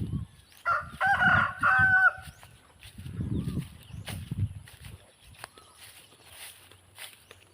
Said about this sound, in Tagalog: Ganon po mga ka-farmers ang native na manok.